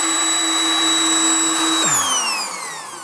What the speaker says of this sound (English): as I drill, I'm gonna push this up